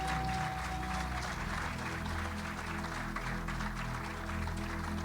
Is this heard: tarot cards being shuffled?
no